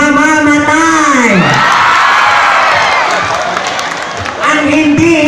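Pageant audience at a Miss Gay event in Badoc, Ilocos Norte, cheering and whooping loudly with applause, shrill shouts swelling over an emcee's voice at the start and end.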